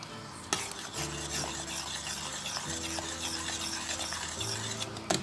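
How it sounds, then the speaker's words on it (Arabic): Spoon stirring molokhia into soup in a pot, a continuous close scraping and rubbing against the pot with soft liquid swishing, steady and moderately quiet with no talk. "وهقلبها لحد ما تندمج مع الشوربه كويس"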